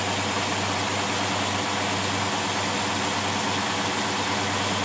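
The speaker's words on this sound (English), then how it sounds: "Sitting there at 800 RPM, the mixture is a perfect 12-to-1." A Predator small engine idles steadily at 800 RPM with a freshly tuned carburetor, giving a continuous, even low hum with a constant buzzing drone throughout and no voices.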